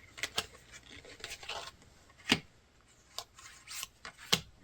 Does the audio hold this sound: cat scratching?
yes